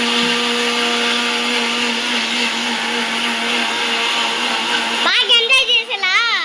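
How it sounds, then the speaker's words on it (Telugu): A kitchen mixer grinder (mixie) blends tomatoes in its jar with a loud, steady motor whine that runs continuously, then turns rougher and wavering near the end as the load shifts. "లాస్ట్ లో మళ్ళీ 2 టమాటాలు వేసి మిక్సీలో వేసేయాలి."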